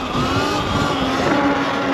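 A 72V Sur-Ron electric dirt bike with a Nuclear 24F controller and a noisy jackshaft bearing accelerates: a steady, loud, close electric whine with a rising tonal hum and broadband rush, no voices.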